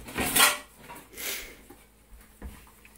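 Dishes and utensils clatter in a home dish rack during cooking, with a burst of rattling early on, another shortly after, and a lighter knock near the end, all fairly close and alone.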